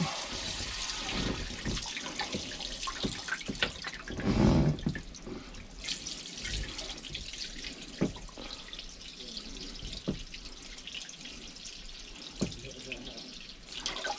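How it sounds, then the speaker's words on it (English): Water splashes and trickles steadily into a bucket as it drains from a boat engine block, with occasional clanks and some voices in the background. "I'm gonna pull the plug and let the water drain out"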